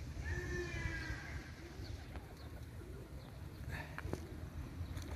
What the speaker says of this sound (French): Tu viens mon petit pigeon.